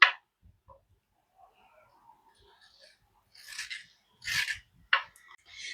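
Seeds being scooped from the centre of a halved cucumber, heard as a few short close scraping and rasping bursts after a mostly quiet stretch.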